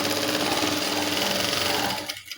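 A sewing machine stitches a girl's uniform pant in a fast, even, buzzing run of needle strokes, close and loud, then stops abruptly near the end.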